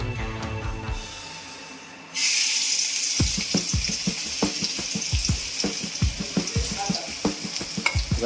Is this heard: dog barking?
no